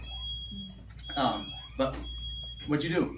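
A steady high-pitched electronic alarm tone sounds in repeated stretches with short breaks while a technician works on repairing the alarm system; people talk loudly over it nearby.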